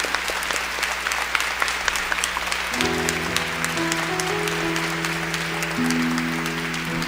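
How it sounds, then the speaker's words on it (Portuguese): A church congregation at a Catholic Mass applauds in steady, dense clapping that fills the space, with sustained organ or keyboard chords sounding underneath. "Vamos aplaudir a Jesus, palavra no nosso meio."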